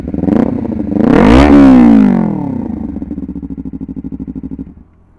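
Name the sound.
Honda CBR 250RR motorcycle exhaust revving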